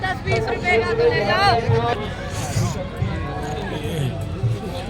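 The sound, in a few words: crowd of pilgrims at Mahakumbh in the morning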